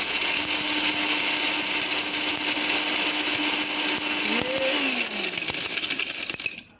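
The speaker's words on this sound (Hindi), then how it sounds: "ये ग्राइंडर में रख के तो आपने इसको ग्राइंड होने देना जब तक ये पाउडर ना बन जाए।" An electric grinder whirs steadily and loudly, close by, as it grinds bird breeding formula into powder, its motor tone shifting near the end before cutting off abruptly; no one talks.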